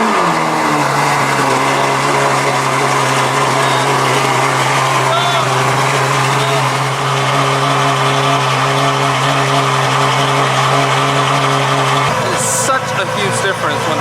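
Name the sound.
Ferrari engine running after a cold start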